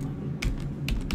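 Computer keyboard typing during play of the game Pathfinder: Wrath of the Righteous, heard as a few sharp, separate keystroke clicks over a steady low background hum.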